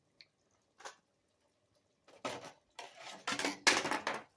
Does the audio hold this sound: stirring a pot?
yes